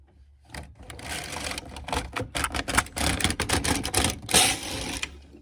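A knitting machine working its first attaching row, the carriage clattering loudly and harshly in bursts of rapid mechanical rattling at close range, with no talking.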